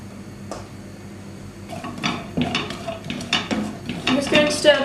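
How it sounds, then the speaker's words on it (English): Onions being stirred in a frying pan with a little rapeseed oil, the spoon scraping and clinking against the pan in a lively, irregular rhythm that builds through the second half, close and fairly loud with no talk. "I'm just going to stir the onions around"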